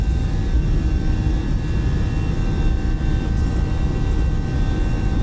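Steady, loud jet roar of a simulated Mexicana Airbus A318 at takeoff thrust leaving Mexico City in Microsoft Flight Simulator 2020, with constant high engine whine over a dense rumbling low end, unbroken and without voices.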